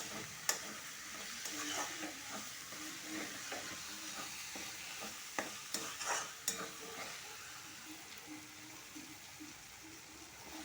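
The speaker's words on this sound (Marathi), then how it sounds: "थोड्यात हळद टाकूया आणि हलवून घेऊ" Sliced onion fries in a pan with turmeric, a soft steady sizzle and hiss under a spoon scraping and stirring in irregular strokes, with a few sharper knocks against the pan, fairly quiet and close.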